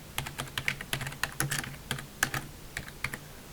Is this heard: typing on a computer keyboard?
yes